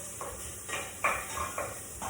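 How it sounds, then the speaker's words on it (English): Onions sizzle softly in a pan, broken by several brief scraping bursts as they are stirred. "I can hear my onions sizzling"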